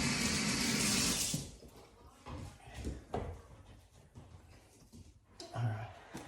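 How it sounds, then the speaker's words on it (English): Water from a running tap splashes loudly for about a second while hands are washed, then stops, leaving quiet handling noises and small knocks. "I'll just wash my hands"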